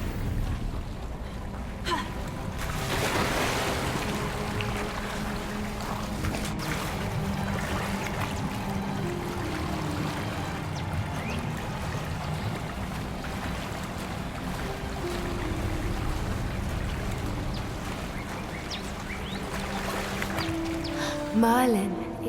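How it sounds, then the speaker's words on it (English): Water bubbling and churning steadily in a spot in Hogwarts Legacy, a continuous watery wash that runs throughout at moderate volume. "Look, where the water's bubbling"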